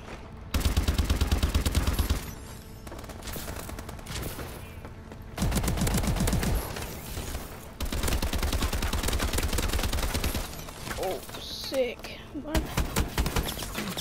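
Gunfire in the Call of Duty Advanced Warfare gun game mode, dense rapid automatic bursts in several long stretches with short gaps, loud and close, with incoming fire from several directions.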